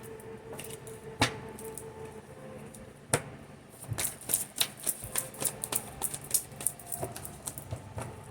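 Tarot cards are shuffled and handled up close, with sharp taps and flicks at first, then a rapid run of crisp riffling snaps, fairly faint overall.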